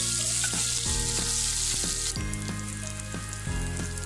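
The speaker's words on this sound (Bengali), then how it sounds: "যে তেলটা দিয়ে আমি মাছটা ভেজেছি ওই তেলটা একটা পাত্রে দিয়ে নিয়েছি, এর মধ্যে আমি পেঁয়াজ কুচি দিয়ে দিচ্ছি।" Chopped onions fry in reused fish-frying oil with a steady, loud broadband sizzle, and several soft stirring knocks land at intervals in the pan. No voices.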